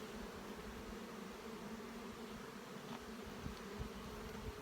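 Honey bees buzzing steadily around an opened hive during an inspection after a colony merger, a continuous low drone alone without talk.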